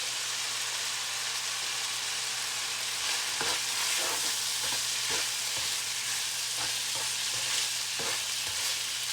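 Onions fry in a pan, filling the clip with a dense, even hiss of sizzling oil, close and continuous, with a few faint stirring knocks in the middle.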